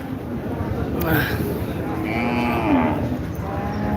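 A cow lets out a long, loud moo, with a higher calf call nearby and a person speaking alongside the animals, at a winter cattle market in Taherpur, Rajshahi.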